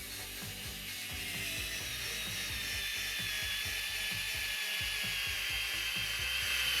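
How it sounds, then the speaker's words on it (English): A good-quality cordless electric screwdriver drives a screw into a length of 3x2 timber, with rapid ratcheting clicks and a whirring motor over a steady wash of loud background noise at a busy Danish tool fair. "This is just a traditional electric screwdriver, although a really good one."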